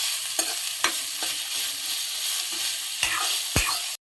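Liver and onions sautéing in a pan with coconut slivers, a loud steady sizzle close by, broken by a few scraping stirs and sharp clanks of a utensil against the pan.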